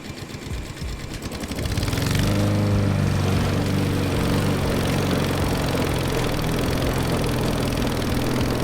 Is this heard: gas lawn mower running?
yes